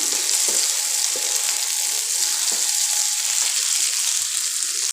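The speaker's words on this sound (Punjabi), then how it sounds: "ਸ਼ਿਮਲਾ ਮਿਰਚ ਨੂੰ ਵੀ ਆਪਾਂ 1-2 ਮਿੰਟ ਲਈ ਪਕਾ ਲੈਣੇ" Capsicum frying in a pan with browned onions, a loud, even, continuous sizzle throughout with a few faint stirring taps.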